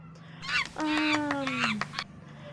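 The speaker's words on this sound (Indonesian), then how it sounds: "pagi hari selalu dimulai dengan suara kokok ayam" A single rooster crow, drawn out and fairly close, over faint background noise.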